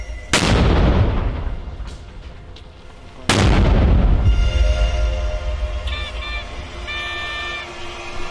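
Two heavy artillery booms from border guards firing on targets in the Kherson region, a few seconds apart, each a sharp blast rolling into a long rumbling echo, with a faint tonal hum lingering afterward.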